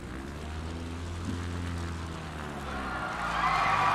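A propeller aircraft in Microsoft Flight Simulator, a bush plane flying in Alaska, touches down on a runway, its engine a steady droning hum throughout that rises and brightens toward the end.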